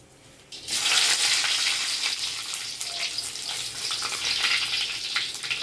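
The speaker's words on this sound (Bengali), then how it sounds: "দারুচিনি লবঙ্গ এলাচ দুটো গুটো গোটা শুকনো লঙ্কায় সমস্ত কিছু আমি একসঙ্গে ফোড়ন দিয়ে নেবো" Whole cinnamon, cloves, cardamom and dry red chillies hit hot oil for a vegetarian raw-jackfruit and paneer dish; after a brief quiet moment a loud, steady crackling sizzle bursts in and continues without talk.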